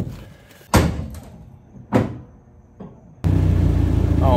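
The door of a 1988 Toyota MR2 AW11 is shut after its window is pulled closed: a few sharp thumps and clunks close by, followed by a sudden, louder sustained noise at the end.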